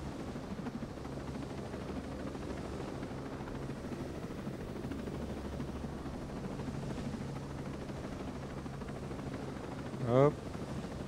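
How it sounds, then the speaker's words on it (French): A helicopter in the video game Ghost Recon Breakpoint gives off a steady, droning rotor and engine rumble that holds evenly throughout. A short rising electronic chirp cuts in near the end. "Je suis aux commandes de l'hélico."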